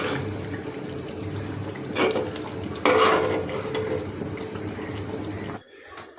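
Curry being stirred and fried in a home kitchen pan, with a steady sizzling and scraping texture, a couple of louder stirring bursts midway, then the sound drops off near the end.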